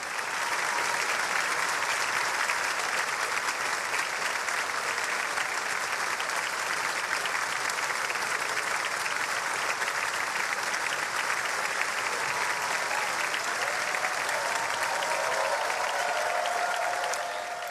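Senators and representatives in the U.S. Congress give Pope Francis sustained, dense applause, a large room full of steady clapping that holds evenly throughout without fading.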